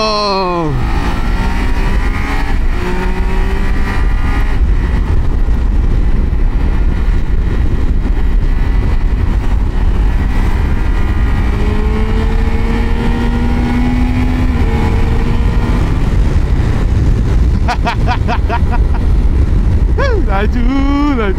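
A Triumph Tiger 800 motorcycle engine drones steadily through a ride, its pitch rising and falling with shifts, with wind rush and a voice talking over it.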